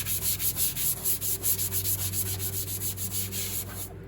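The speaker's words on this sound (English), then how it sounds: "I'm going to be sanding all this up under here." A Scotch-Brite pad scrubs back and forth against a Fox-body Mustang's underbody in a steady rhythmic rubbing, close and repetitive, about four strokes a second, with a constant hum beneath.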